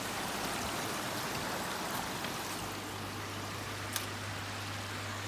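Water from a pond filter holding just under 1,000 litres of K1 media pours steadily back into the pond, a constant close splashing rush with no pauses and a faint click near the end.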